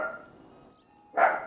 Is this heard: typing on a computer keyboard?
no